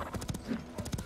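Horse hooves in the medieval game Life is Feudal beat a quick, rhythmic clip-clop of a charging animal, faint and moderately distant, with two clustered groups of hoofbeats.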